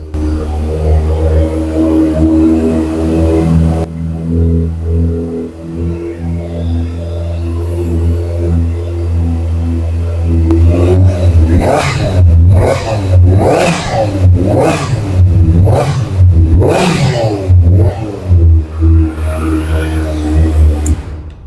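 A 2026 Kawasaki ZX-6R motorcycle warming up from cold idles with a loud, steady hum, then its engine is blipped in a rapid series of sharp revs that rise and fall close by.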